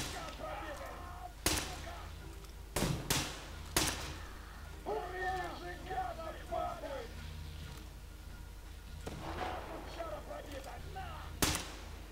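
Sharp gunshots in the video game Metro Exodus, a few isolated cracks spaced a second or more apart, loud against a low hum with faint game sounds between them.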